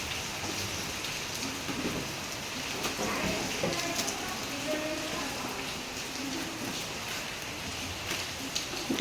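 Rain falls steadily outside as a dense, continuous hiss of drops on surfaces, with a low rumble beneath and no break across the stretch.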